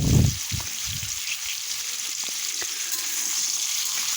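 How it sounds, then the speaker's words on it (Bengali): Potato pieces tossed into papaya already frying in oil, with a burst of loud sizzling and stirring thumps at first, then a steady hiss of frying continuing alone. "এবার এই সময় আমি আলুগুলোকেও এখানে ছেড়ে দেবো এবং আলুগুলোকে দিয়েও ভালো করে নেড়ে খানিকক্ষণ ঢাকা রেখে দেবো।"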